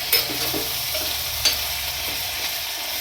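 Chili-garlic paste stirred into okra curry in a pan, a continuous close sizzle broken by a couple of sharp spatula scrapes against the metal, no voices.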